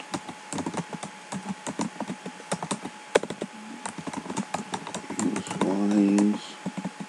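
Someone types Perl code on a computer keyboard, the keys clicking in quick, uneven bursts close to the microphone, with a brief spoken murmur near the end.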